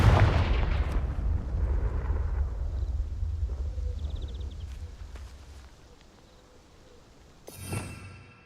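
Confringo blasting spell explosion in the video game Hogwarts Legacy, a loud deep booming blast that rumbles and fades over several seconds, followed by a shorter burst near the end.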